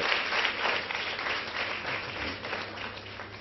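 An audience applauds, a dense, even patter of many hands clapping that continues steadily throughout.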